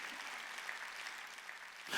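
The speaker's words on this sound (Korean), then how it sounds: "박수치라." A church congregation claps together during a Korean Sunday worship service, a soft, distant patter of many hands that runs evenly for a couple of seconds without talk.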